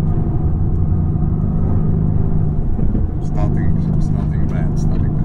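Mercedes-AMG car lapping the Suzuka circuit, a steady loud engine drone and road rumble heard from on board, with voices talking over it.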